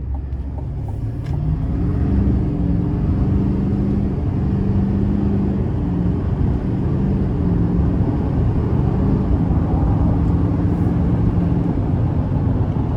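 A 2025 Chevy Silverado 2500HD LT TrailBoss heavy-duty turbo pickup pulls away from inside the cab, a steady loud low engine rumble building as it gains speed, with no talking.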